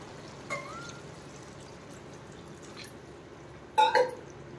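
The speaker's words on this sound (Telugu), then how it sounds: "అరజగ్గు వాటర్ యాడ్ చేసుకుందాం" Half a jug of water poured into a pot of chana dal and ridge gourd curry: a short splash early on, quiet simmering, then a louder gurgling pour near the end.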